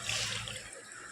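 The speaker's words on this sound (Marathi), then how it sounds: "तर आता याच्यामध्ये आपण पाणी ओतून घेऊ." Water is poured into a bowl holding pieces of katla fish, a soft, faint, continuous splashing trickle that fades slightly toward the end.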